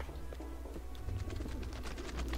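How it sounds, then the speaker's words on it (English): Pigeons coo in the Hitman: Blood Money video game, with soft, repeated low throaty calls running steadily over a busy ambient background throughout. "Pigeons!"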